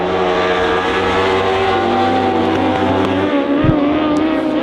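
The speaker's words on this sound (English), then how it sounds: "You can hear it kind of popping and cracking as it goes into turn 1 down here." A stock car engine with an ignition fault drones loud and steady at a short-track speedway, its tone shifting near the end as it goes into the turn, with uneven popping and cracking in the exhaust.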